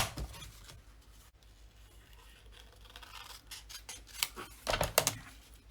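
Scissors trim paper for a scrapbook layout, giving soft close snips and paper rustles that grow louder and more frequent toward the end.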